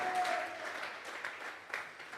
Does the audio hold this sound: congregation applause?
yes